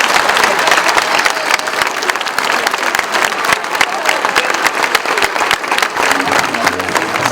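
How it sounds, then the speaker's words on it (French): Loud, dense applause from a crowd honouring young under-11 football players at a Euro U11 youth tournament celebration, steady and sustained with scattered cheering throughout. "je pense qu'on peut déjà leur faire un tonnerre d'applaudissements à tous ces petits"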